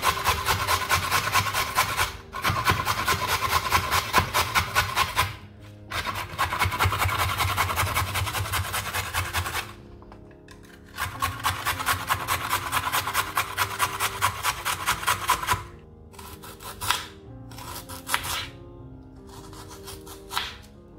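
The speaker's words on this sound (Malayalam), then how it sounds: "ബാക്കി ഇനി ക്യാരറ്റ് ഗ്രേറ്റ് ചെയ്തെടുക്കുക." A carrot rubbed against a small hand grater gives steady, close rasping strokes in long runs broken by brief pauses, ending in a few shorter scrapes; no voices.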